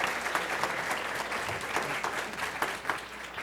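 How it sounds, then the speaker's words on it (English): An audience claps steadily after a panel session, a close, even round of applause with scattered louder claps running throughout. "So let's give a big round of applause."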